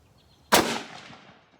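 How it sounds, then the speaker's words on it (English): A single rifle shot from an M.24/47 Yugo Mauser firing PPU 8x57 Mauser ammunition at a range: one sharp, loud crack followed by a rolling echo that fades over about a second. "That was a better shot, but I didn't get enough correction to the right in there"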